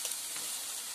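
Eggs hit a hot frying pan, giving a short burst of bright, hissing sizzle with a couple of faint ticks at the start, steady and close.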